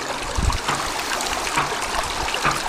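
Water pumped back up through a pipe pours out in a steady, close trickle and gurgle, with a few small splashes over the continuous flow.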